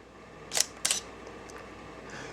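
Shutter of a Canon T-series DSLR firing at a slow 1/4-second speed: two sharp mechanical clacks about a quarter second apart, close and crisp over a quiet room.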